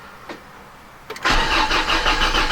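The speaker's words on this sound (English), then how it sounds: "that started it quite successfully" A car engine is started with a jump starter booster pack: a couple of faint clicks, then a brief crank, and the engine catches and settles into a loud, steady idle close by.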